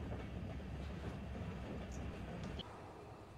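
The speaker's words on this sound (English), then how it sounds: "We have a train coming." A simulated freight train in Run8 Train Simulator rolls past with a steady rumbling roar and rhythmic wheel clatter, moderately distant and continuous, easing slightly near the end.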